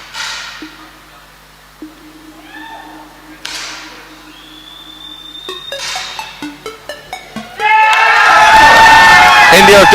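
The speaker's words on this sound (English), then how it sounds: "The crowd go berserk." After a few sharp, sparse bangs and pops, a large crowd at an Olympic sporting event erupts into loud, sustained cheering and shouting following India's win.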